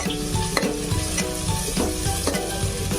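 Garlic and green chili paste frying in a pan, a continuous loud sizzle with repeated scraping stirs from a utensil at a steady, regular rhythm, close up.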